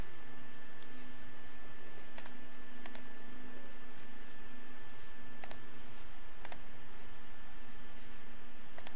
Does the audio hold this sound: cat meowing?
no